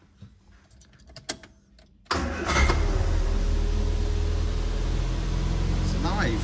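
An MG 1500 engine, fed by an electric fuel pump, cranks briefly and then catches into a loud, steady idle that runs on without a break. Softer clicks and rustles come before it starts.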